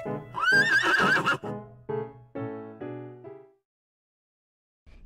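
A horse neighs loudly nearby, a high whinny followed by several descending snorting pulses, then falls silent.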